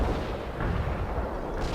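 Artillery and gunfire strike in the wartime strategy game World in Conflict, a dense, rumbling barrage of booming impacts and shots rolling together loudly and continuously.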